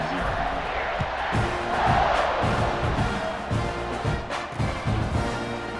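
Crowd in the NCAA 26 football video game roaring at a kickoff between Texas A&M and Vanderbilt, a loud, sustained stadium din with rhythmic chant-like pulses and shouts.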